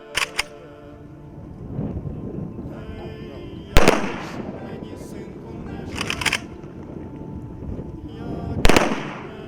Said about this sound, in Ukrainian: Військовим салютом воїни-побратими вшанували пам'ять героя.